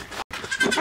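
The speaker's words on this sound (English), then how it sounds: "I don't know where that other little goat is." Goats on a farm bleating at feeding time, a loud close cry filling most of the moment with a brief gap, then more overlapping bleats.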